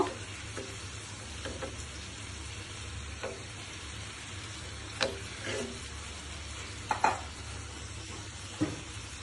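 Steady low sizzling of rui fish frying in hot oil with spices, with a few soft clinks and stirring scrapes now and then.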